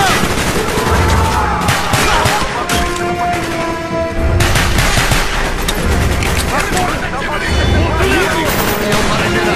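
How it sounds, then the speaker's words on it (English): Loud, busy gunfire from the Call of Duty Black Ops campaign, rapid automatic bursts and booming shots stacked in a dense battle mix, with shouted voices in the chaos. "Shoot the lock, Mason!"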